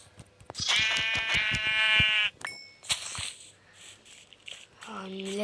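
Sheep in the video game Minecraft bleat in a loud, harmonic wavering cry lasting over a second, followed by shorter bleats and game sounds, with a person talking over parts of it.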